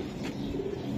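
Pigeons coo in a loft of Pakistani Teddy and Giribaz breeds for sale, a low steady murmur of soft coos filling the whole moment at close range.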